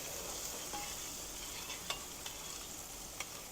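Salisbury steak patties fry in a pan over low heat, giving a steady, close sizzle with a few faint pops and light scraping ticks. No one speaks.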